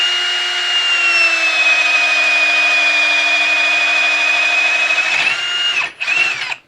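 A new DeWalt XR cordless drill/driver at high speed whines steadily as it bores through wood, a loud continuous tone that holds for about five seconds before breaking up and stuttering near the end.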